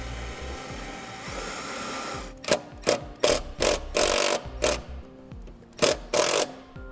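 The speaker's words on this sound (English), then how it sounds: "We'll go ahead and get one screw started." A self-tapping screw is driven into a battery disconnect mount on a 2017 Ford Edge, with a steady whir followed by a series of short, loud bursts as the power driver is triggered repeatedly.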